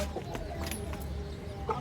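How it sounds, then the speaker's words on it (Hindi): Chickens cluck softly in the background with a few scattered short calls, fairly faint and distant among a household collection of birds. "वो वाली मुर्गी लेके आओ ना।"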